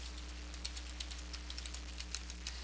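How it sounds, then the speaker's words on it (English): Quiet, quick keystrokes tap out on a computer keyboard in a short, irregular burst of light clicks over a faint steady hum, with no voices. "now I want to type in my confidence level"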